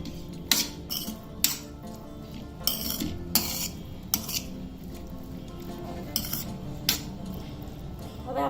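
A spoon stirs chopped tomatoes and raw mango into corn bhel in a bowl, making repeated bright clinks and scrapes in an uneven rhythm, close and fairly quiet, with no speech.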